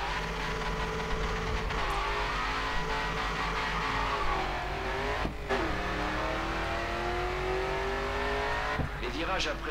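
A race car drifting in the video game Grid 2, the engine revving steadily and rising in pitch with brief gear-change dips and some tyre squeal, while a narrator speaks over it.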